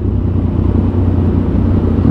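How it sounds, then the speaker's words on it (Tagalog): A big bike motorcycle engine rumbles loudly and steadily at close range, holding a deep, continuous drone with no pauses. "Angas na yung motor natin. Pinarempam natin."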